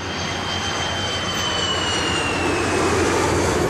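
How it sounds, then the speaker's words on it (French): Airplanes crossing overhead in the sky, a steady broadband engine roar that builds slightly in loudness over a few seconds, with no voices. "Des avions traversent le ciel."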